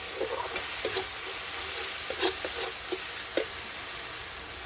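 Lentil and egg curry frying in a pan as a little water goes in, giving a steady broadband sizzle with a few stirring clinks and bursts of spattering along the way.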